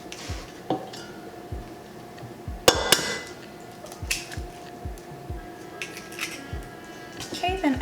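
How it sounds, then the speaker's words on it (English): A second egg being mixed into creamed butter for chocolate chip walnut banana bread, with a spoon knocking rhythmically against a bowl in steady repeated taps and a few sharper clinks, while someone talks over it. "we're gonna mix the second egg in"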